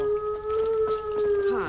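A dog whines in the video game Far Cry 5, a long steady plaintive tone held for well over a second with faint game background sound around it.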